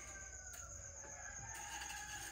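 Roosters crowing in the early morning around a rural home, faint and distant under a steady background hum, with repeated calls in a short stretch.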